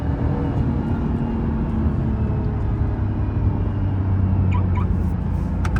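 An Acura NSX sports car drives fast, its engine and road noise a loud, continuous roar heard from inside the cabin, steady throughout with no talking.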